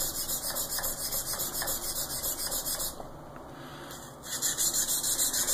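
A ZDP-189 knife blade is sharpened at the heel on a King whetstone, giving rhythmic, gritty rasping strokes repeated steadily, close and fairly loud, with a brief lull before the strokes resume.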